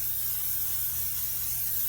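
Cooking oil sprays from a can onto a frying pan in one continuous steady hiss lasting the whole moment, close and fairly loud over a low background hum.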